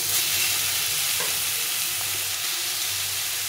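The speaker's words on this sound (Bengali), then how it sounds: "রসুন আর কাঁচা লঙ্কা কালো জিরাটাকে একটু ভেজে নিয়ে আমি গ্রেট করে রাখা বিটটাকে দিয়ে দেবো" Grated beetroot frying with garlic, green chilli and nigella seeds in a pan, a continuous dense sizzle with stirring, close and steady throughout.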